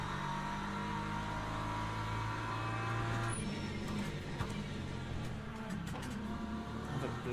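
An LMP2 prototype race car engine in a racing video game at Sebring: a steady, fairly faint engine drone that holds on and shifts in tone partway through, with no talking.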